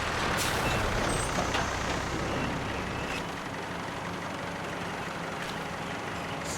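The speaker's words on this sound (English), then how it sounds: "Sound of tanks." Armored vehicle engines in the video game Final Fantasy XIV Online rumble loudly and continuously, with a hissing burst and a slight drop in level midway.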